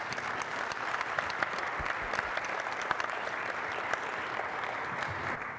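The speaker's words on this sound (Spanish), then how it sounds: "un fuerte aplauso para nuestros panelistas" Audience applause for panelists at a pioneers' panel, a steady wash of many hands clapping that sounds soft and somewhat distant, with no voices over it.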